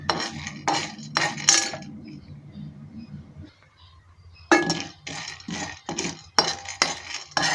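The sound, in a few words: spoon stirring peanuts dry-roasting in a pan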